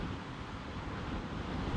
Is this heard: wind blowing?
yes